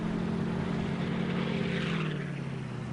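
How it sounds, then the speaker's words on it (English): Exhaust note of a lowered Chevy Kodiak truck in Farming Simulator, a loud, steady low engine drone with a slowly falling pitch, heard alone for a few seconds. "Has such a great exhaust note as well."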